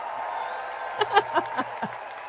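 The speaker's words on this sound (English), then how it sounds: "I'd give that one a cheer" A sound-effect button fires off a short burst of cheering applause: several quick clap-like peaks over a steady hum, moderately loud and brief, with no voices.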